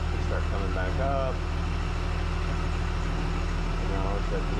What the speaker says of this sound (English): And now let's set the engines on.